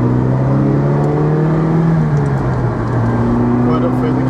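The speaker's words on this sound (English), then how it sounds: "we'll just give you a little run of the road in this lovely 308 GTSi" A 1982 Ferrari 308 GTSi Targa is driven along a road, its engine droning and rising in pitch as it accelerates, with a shift partway through and steady tyre and wind noise under it.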